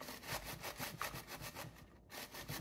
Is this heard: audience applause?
no